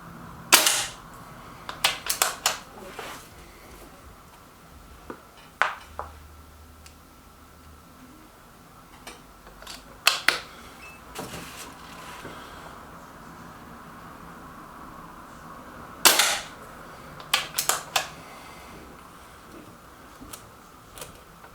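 Artemis M11 .22 air rifle firing JSB pellets at targets outdoors, sharp isolated cracks spread irregularly over about twenty seconds, some in quick pairs or clusters, against a quiet background without speech.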